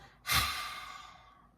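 A single long breath, in and out, during a guided strength and stretching practice: a soft onset, then a breathy airy rush that slowly fades. Close and quiet, with no talking over it.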